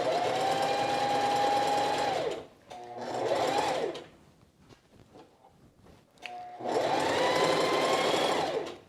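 A sewing machine stitches quilted jacket fabric in three loud bursts, a long run, a shorter one and another long run, with quiet pauses between them.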